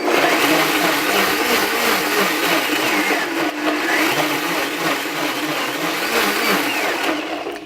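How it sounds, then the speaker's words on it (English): A countertop blender whirs steadily through soaked steel-cut oats, a loud, continuous motor drone with a grinding texture that holds even for the whole stretch without pause. "we're going to blend this probably for about 10 or so more seconds"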